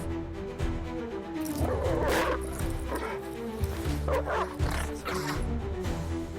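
Dogs growl and bark in a tense confrontation, with several loud, rough barks and snarls bunched together over a few seconds and no speech.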